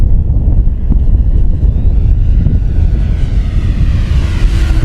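An RC Flightline 1600mm Corsair model plane on a 6S 6000mAh pack flies in windy conditions, its steady engine drone continuous and fairly loud, mixed with wind buffeting the microphone throughout.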